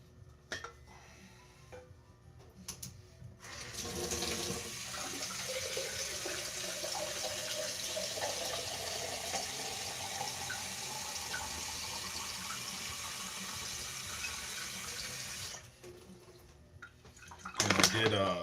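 Tap water runs steadily into a vessel being filled for brewing coffee, a continuous rushing stream of about twelve seconds, quiet before and after.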